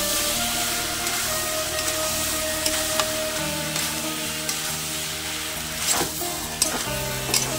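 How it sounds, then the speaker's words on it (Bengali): Jackfruit being sautéed in a kadai, a continuous close frying sizzle with occasional stirring scrapes and clinks throughout, no talking. "এখন কাঁঠালটা ভালো করে কষাই নিই, এরকম মাংস কষায় এরকম ভালো করে সুন্দর করে কষাই নিই।"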